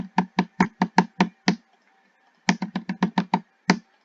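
Typing on a computer keyboard: two quick bursts of sharp, close keystrokes, seven taps then a pause of about a second, then another run of eight, clear and alone.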